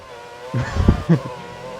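Race car engine in the F1 2013 video game at Bahrain, a brief loud burst of engine and skidding noise as the car nearly loses control, rising and falling over about a second, with a shout over it.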